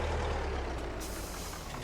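Truck traffic in Farming Simulator 22 brings a steady, fairly faint rumble of heavy engines and a hissing release of air brakes, with no voices.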